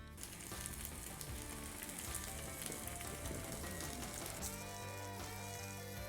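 A ribeye steak sizzles loudly and continuously on a hot surface during a reverse sear after smoking, a dense, steady crackle and hiss close up with no talking.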